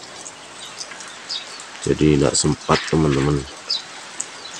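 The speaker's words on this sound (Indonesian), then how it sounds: "Di pagi hari ini sudah hujan" Steady morning rain in Siliwanga village in the Napu Valley of Central Sulawesi makes a soft, continuous hiss with scattered drips and a faint bird chirp, while someone speaks briefly over it.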